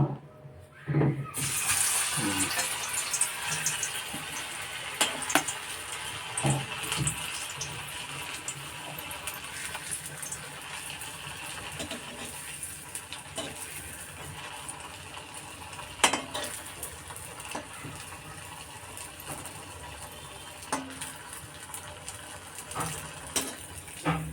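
Suji potato cutlets fry in hot oil, a steady close sizzle running throughout with occasional clinks of a utensil against the pan.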